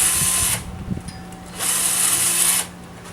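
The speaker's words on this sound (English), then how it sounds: "You don't want to drill through the headstock." A power drill boring tuner holes into a wooden cigar box guitar headstock, two sustained high-pitched whirring bursts separated by a quieter pause with light handling sounds.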